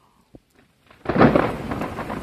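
Loud thunder crashes in after a near-silent moment with a faint click, then rolls on with heavy rain and rumble during a lightning storm near open water.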